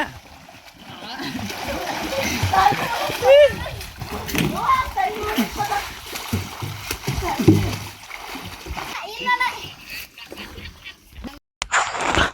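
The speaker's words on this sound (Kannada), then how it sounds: "ಅವ್ರು ಈಜು ಬರೋರು ಬಾವಿಯಲ್ಲಿ ಈಜಾಡಿ ಮಜಾ ಮಾಡ್ತಾವ್ರೆ" Swimmers splashing and paddling in a village well, irregular sloshing and splashes echoing off the walls, mixed with excited voices and children's shouts.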